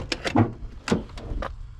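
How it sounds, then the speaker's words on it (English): A Ford Crown Victoria with some collision damage has its doors opened and shut, giving a few sharp, fairly close thumps and latch clicks spaced across a short stretch. "The doors open and close."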